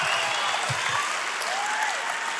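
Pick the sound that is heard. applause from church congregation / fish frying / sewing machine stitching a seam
applause from church congregation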